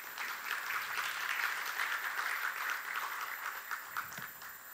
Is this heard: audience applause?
yes